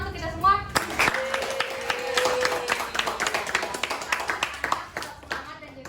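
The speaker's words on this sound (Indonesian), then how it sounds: "Boleh tepuk tangan untuk kita semua." Students in a classroom clap together in a lively, uneven patter that runs for several seconds. A teacher's voice and children's chatter carry over the clapping.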